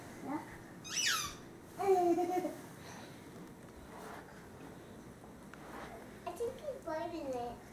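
Squeaky owl dog toys squeak repeatedly as an old German Shorthaired Pointer plays, high rubbery squeals in short bursts, some under people talking nearby.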